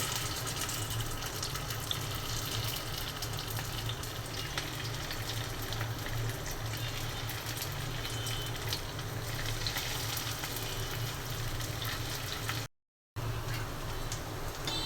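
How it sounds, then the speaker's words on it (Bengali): Chops (cutlets) fry in a pan with a steady, close, rushing hiss that sounds almost like running water and stays even throughout, with a brief cut near the end and no voices. "চপগুলো ভেজে নিচ্ছি।"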